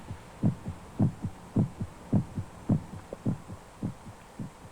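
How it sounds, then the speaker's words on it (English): A human heartbeat pounds in a steady lub-dub rhythm, about nine or ten deep thumping pairs over a low hum, close and prominent. "The sound of our heart pounding against our ribs."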